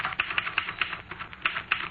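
A typewriter clacks away as a 1947 radio drama sound effect, a quick run of sharp, close keystrokes in an uneven rhythm, with no voices over it.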